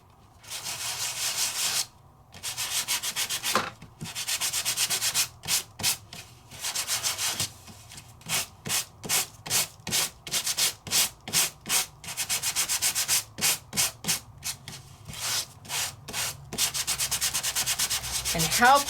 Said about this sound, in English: But I wanna sand it anyway, so I'm all good with that. Let's bring over our sandpaper.